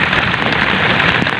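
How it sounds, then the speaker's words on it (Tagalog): Steady rain pours down near a fishing spot during a whirlwind storm, a dense continuous hiss of drops hitting surfaces throughout, with no voices. "Ayan, umuulan na."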